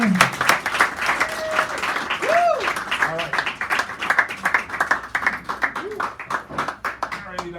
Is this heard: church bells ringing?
no